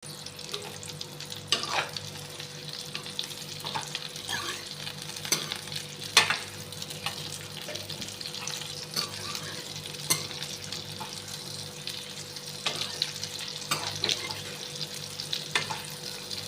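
A ladle stirring amla (Indian gooseberry) pickle as it fries in oil, producing continuous sizzling with repeated scraping and clinking strokes at close range and no speech.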